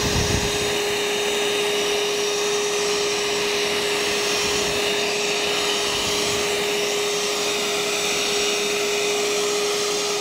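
RIDGID 18-Volt compact hand vacuum, model R86, running steadily with a loud, constant whine and airy rush throughout, close and unbroken, with no talk.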